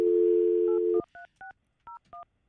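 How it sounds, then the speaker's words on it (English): A steady dial tone on a telephone line stops after about a second, followed by five separate touch-tone beeps as a number is keyed in, clear and close with no talk. "let me see if I can get Julian on the phone"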